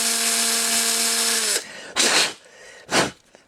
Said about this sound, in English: So that's why you drill them out, so your axles will run freely